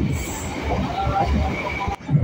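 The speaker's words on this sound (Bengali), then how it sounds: "আমরা এখন ছুটে চলেছি সেই শিয়ালদা মেন লাইনের ওপর থেকে" An almost empty passenger train runs at about 60 to 70 km/h on the Sealdah main line, giving a steady rumbling rattle with a high wheel whine, heard from inside the carriage.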